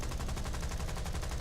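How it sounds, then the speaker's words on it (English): A Gloster Gladiator's rifle-calibre machine guns fire in War Thunder, a rapid, even stream of close, rattling shots packed tightly together throughout a short burst. "the Gladiator only has rifle caliber machine guns"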